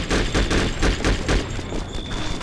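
Rapid bursts of gunfire from the video game Conflict: Desert Storm 2, with repeated loud shots and fusillades filling the whole moment alongside combat noise.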